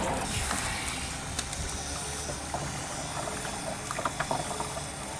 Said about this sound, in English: I set it up so that I could fill my tanks like this